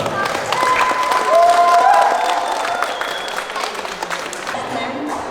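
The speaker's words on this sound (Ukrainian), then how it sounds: "Оплесками дякуємо." A crowd at a school sports event applauds to thank physical education teachers, with loud clapping mixed with cheering voices and background chatter that eases off toward the end.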